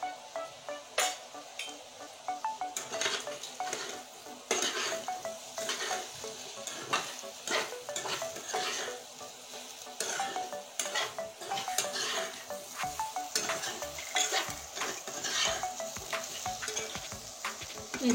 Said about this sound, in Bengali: এই দেখুন নেড়ে নিয়েছি।